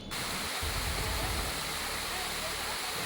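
Cheekudhra waterfall near Rajavommangi village gives a steady, full-bodied rushing roar of falling water, loud and close, continuous throughout the short stretch.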